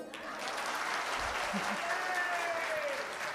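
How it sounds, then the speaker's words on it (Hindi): An audience claps at a Shrimad Bhagavat Katha religious discourse: steady, dense applause that stays even throughout, fairly soft, with a faint voice briefly underneath. "ताली बजा दो।"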